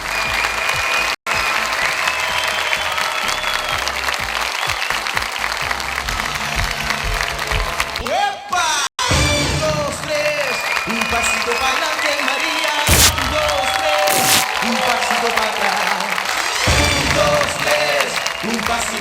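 Loud audience applause fills a fashion gala runway show throughout, mixed with music and a few shouts, with a brief mechanical rattle partway through.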